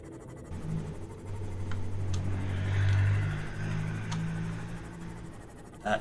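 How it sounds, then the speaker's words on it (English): Vehicle engine in the video game Subnautica, a low steady drone that swells toward the middle and eases off again, heard alone without speech. "was not a very good engine noise."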